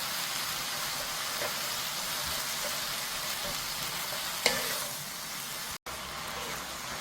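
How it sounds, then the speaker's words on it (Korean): Aged kimchi and garlic stir-fry in a pan with a continuous, dense sizzling hiss, close and steady, broken by a single brief clack near the end. "그리고 마늘까지는 넣고 먼저 볶을게요."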